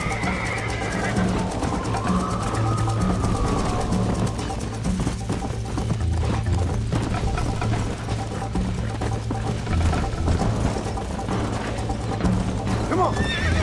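Horses gallop with rapid, continuous clip-clop hoofbeats and a loud neigh in Red Dead Redemption, with voices talking over the hooves and whinnies throughout.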